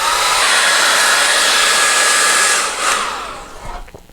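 Hair dryer blowing steadily on a watercolor seascape painting, a loud continuous whoosh that cuts off near the end, leaving a few faint handling noises.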